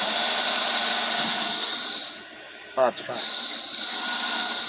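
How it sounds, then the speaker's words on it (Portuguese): A 2014 Volkswagen Saveiro 1.6 makes an abnormal noise from the front when the clutch is pressed: a steady high whine over hiss that briefly drops away, while someone speaks a few words. "Aqui vamos pisar na embreagem e perceba o barulho lá na frente"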